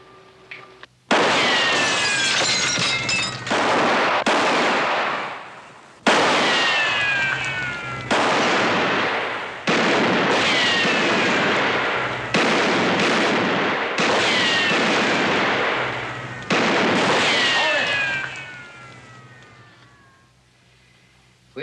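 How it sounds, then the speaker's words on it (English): Gunfire in a film scene, with about eight sharp, loud shots echoing out in long ringing ricochet-like decays, spaced a couple of seconds apart. "You can keep shooting all day"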